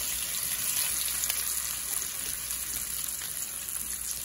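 A little grease in a skillet crackles and sizzles steadily for a few seconds while breakfast is cooked, a close, continuous hiss with small pops and no voices.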